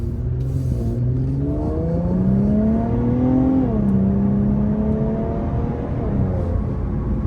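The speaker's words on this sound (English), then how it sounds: "This one must have an aftermarket exhaust because this is loud." A 2021 Infiniti Q50 Red Sport 400 with a loud aftermarket exhaust revs up under acceleration, its engine note rising through the gears, then settling as it cruises, heard steadily from inside the car.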